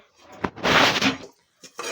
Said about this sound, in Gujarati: આમાં તળ નાખે છે અત્યારે ગોળની સાંખણીમાં ને પછી મિત્રો હલાવવાનું છે